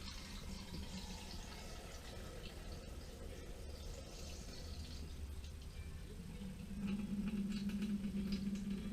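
Rinse water drains off a batch of homemade butter in a faint, steady trickle, with a slightly stronger liquid rush toward the end.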